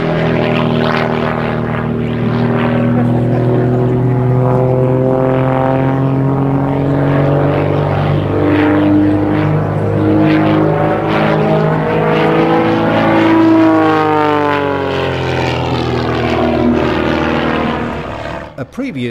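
Propeller engine of an aerobatic display aircraft with a 500-degree-per-second roll rate, a loud sustained drone whose pitch rises and falls through manoeuvres across the whole stretch.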